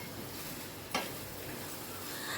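Chicken being stirred and fried down for pulao gives a steady low sizzle in the pan, with one brief scrape of a spoon partway through, close and soft, no talking.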